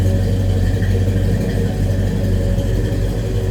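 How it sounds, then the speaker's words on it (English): A 1968 Chevrolet Chevelle Malibu Sport Coupe with a big block engine idles nearby, a loud, steady, deep rumble with a smooth even tone and no talking. "Great sounding big block under the hood of this one."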